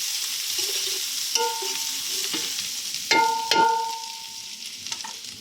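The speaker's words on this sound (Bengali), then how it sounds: "তো ডালটাই আগে বাগার দিয়ে দিই" Dal is tempered in a small amount of hot oil in a pan, giving a steady light sizzle with sharp spatters and metallic clinks of a spoon or utensil striking the pan, with louder crackling bursts midway.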